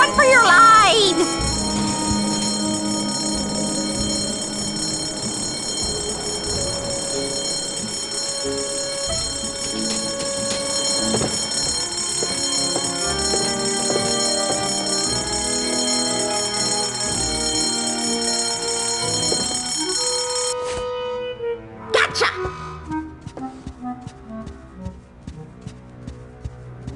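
Fire alarm bell in the video game Monkey Island 4 rings continuously and loudly for about twenty seconds, then cuts off, followed by a few scattered clattering sounds.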